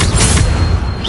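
A booming blast from a Bombarda explosion spell in the video game Hogwarts Legacy, one loud, dense burst that fills the whole moment with no talk over it.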